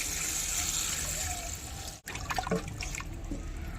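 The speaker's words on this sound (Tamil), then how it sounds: "தண்ணியை சேர்த்துக்கோங்க" Water, including broth left from cooking the meat, is poured into a biryani pot in a splashing, gurgling stream. It pauses briefly, then resumes with lighter splashes and drips close by.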